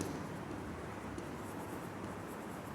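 Pen scratching steadily across paper while working a math problem on distance travelled by a bus and a train, a continuous close dry scribbling with no talk over it.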